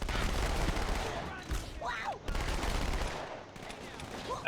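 Gunfire from the Halo 2 mission Outskirts, bursts of shots in uneven clusters under game sounds, moderately loud with short gaps between volleys.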